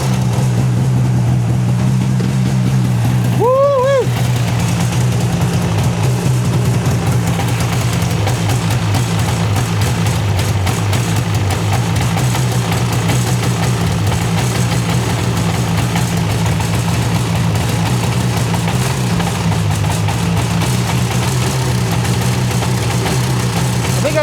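A snowmobile engine runs at a steady idle with a loud, low, throbbing drone close by. A brief rising squeal comes early on.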